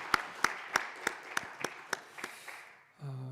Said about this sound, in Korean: 축복의 박수 부탁합니다